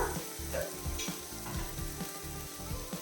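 Chicken pieces hit a hot pan for pepper chicken, setting off a steady close sizzle and fry with light stirring scrapes, no talking.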